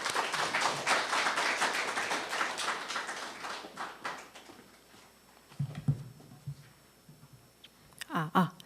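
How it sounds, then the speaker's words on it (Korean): Audience applause at a workplace innovation case-sharing forum, a dense patter of clapping that fills the first four seconds and fades, followed by quieter room sounds and a few brief voices. "박수로 맞이해 주시기 바랍니다"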